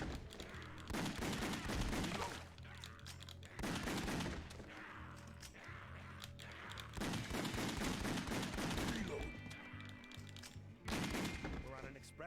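Video game gunfire in rapid automatic bursts, loud and close, separated by short pauses, with a few single shots and people talking over the action.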